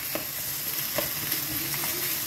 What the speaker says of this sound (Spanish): Mi cebolla. Se van a sofreír un poquito.